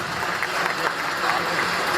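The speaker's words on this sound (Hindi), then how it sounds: "तो एक बार जोरदार तालियों से स्वागत होगा" An audience at a Delhi astrology conference applauds to welcome a guest onto the stage, with dense, steady clapping filling the room at full volume throughout.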